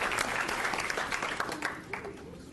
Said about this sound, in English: You deserve the round of applause